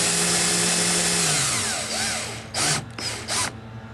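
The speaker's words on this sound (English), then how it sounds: "Basically you just need a drill" A handheld drill with a letter F bit works through a wheelchair control housing, its motor whine sliding down in pitch as it bites, then a few short bursts of high-speed spinning near the end.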